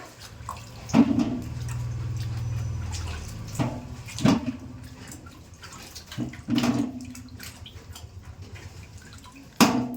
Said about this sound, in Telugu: మామిడికాయలు అయితే ఈ విధంగా కడుగుతున్నారు